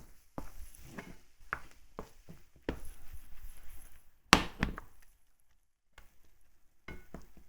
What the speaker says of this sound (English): when you have brown pieces at the bottom of your pan, make sure you scrap them so that gets mixed into the whole thing